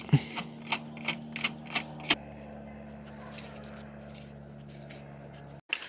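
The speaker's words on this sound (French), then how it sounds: "On commence par serrer à la main. Et on finit à la clé." Hand-tightening a nut onto the shock absorber of a Dacia Duster 4x4 during repair: a run of light metallic clicks and taps over the first two seconds, close by, against a steady low hum, then a quieter stretch and a sharp clack at the end.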